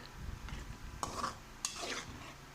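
Dry coriander and cumin powder being stirred into a cooking dish, a soft background sizzle with two sharper clinks of a spoon against the pot, fairly quiet.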